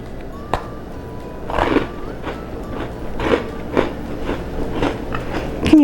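Several crisp crunchy bites into chocolate-drizzled biscotti land at irregular intervals, loud and close, over a low background murmur.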